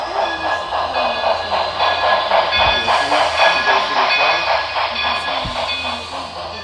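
Model train running along a club layout in Hendersonville, North Carolina, with a steady rhythmic clatter of wheels and a whirring motor passing close by, plus a couple of sharp knocks.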